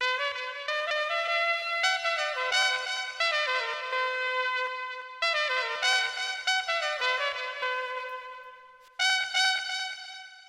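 Chopped horn samples with added effects, sequenced on an MPC Live, play as bright stabbed phrases in a steady rhythm with short gaps between them, loud and alone with no talking.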